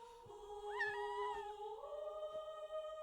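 A cat in an anime episode gives a long, drawn-out meow that rises and then wavers. It is heard fairly clearly over a quiet background.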